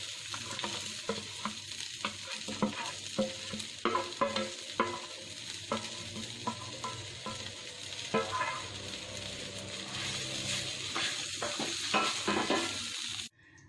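Onion, mint and roasted ingredients being stir-fried in a pan, a constant sizzle under steady rhythmic scraping and tapping of a spatula, close and continuous until it cuts off at the end.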